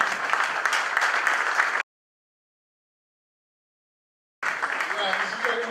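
An audience at a keynote event applauds in a dense, even wash of clapping that cuts out abruptly into silence and then resumes just as full.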